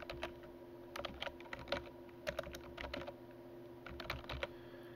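Quiet keyboard typing, irregular soft clicks in short bursts with pauses over a steady low hum, no voices.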